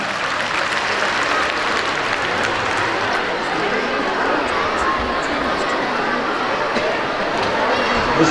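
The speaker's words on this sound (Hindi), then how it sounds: "हाथ ऊपर करके तालियां होनी चाहिए" A large audience at a convention centre in Islamabad applauding as Engineer Raja Qamarul Islam comes to the stage, loud continuous clapping with crowd noise throughout.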